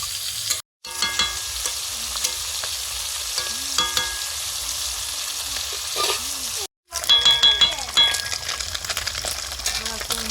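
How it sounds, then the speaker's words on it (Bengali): Small kuchi fish fry in oil outdoors at night with a steady close sizzle, punctuated by metallic clinks of stirring utensils and two brief dropouts. "কুচি মাছ ভাজা হয়ে গেছে"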